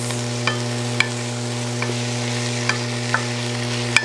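Vegetables with Italian seasoning sauté in a soup pot, giving a soft continuous sizzle under a steady low hum. Occasional light clicks and taps come from stirring.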